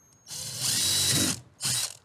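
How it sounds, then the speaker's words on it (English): A power drill bores a 3/16 inch pilot hole while a Torqeedo motor is fitted to a Bonafide RVR119 kayak: a loud, close whine runs for about a second, stops briefly, then returns in a shorter burst. "I'm going to start out by drilling a 3/16 inch pilot hole and finish by drilling a 3/8 inch"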